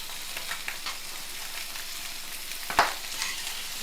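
Ingredients popping and sizzling in hot oil while frying for a black pepper egg curry, a soft steady hiss with scattered small crackles and one sharper pop near the end, heard up close.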